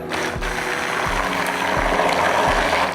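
A stick blender's whirring motor hums steadily with a faint pulsing knock roughly every second as it blends pumpkin soup, close up and fairly loud.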